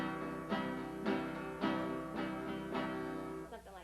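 Acoustic guitar strummed in a polka rhythm, with bright chord strokes landing about every half second in a bouncy two-beat pattern, played alone and close.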